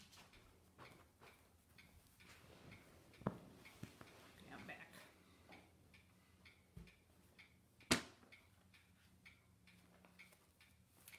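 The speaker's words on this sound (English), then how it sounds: "Oh, the clicking is loud? The clock ticking?" A clock ticks indoors in a quiet room, a faint regular ticking with scattered clicks and a louder knock, as someone moves around and speaks softly.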